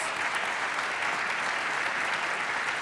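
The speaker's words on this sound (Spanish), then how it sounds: "yo les voy a pedir un fuerte aplauso, por favor, para todos los candidatos" Dense, steady applause from a large crowd, loud and continuous throughout with no pauses.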